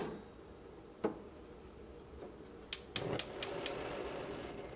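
A quick run of about five sharp, dry clicks close by, like a gas burner igniter sparking, after a single soft knock, over a faint background hum.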